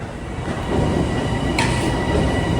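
An LIRR commuter train rumbles through Jamaica station during the evening rush hour, with a steady loud roar of wheels on rails and a brief metallic squeal partway through.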